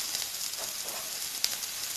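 Onions tipped into a pan of carrots already browning, giving a steady, fairly faint sizzle and hiss throughout with one brief sharper crackle near the middle, no voices.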